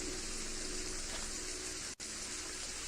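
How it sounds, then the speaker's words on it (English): Steady, dense rain in the video game Wrongworld, a continuous hiss of falling water with no distinct drops, heard alone at moderate level and cut by one brief dropout near the middle. "That's the rain."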